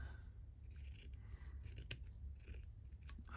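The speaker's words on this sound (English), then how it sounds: "going to cut a piece off." Scissors cutting a piece off material for a stitched fabric project, a faint close snipping with a few quick blade closes, no talking.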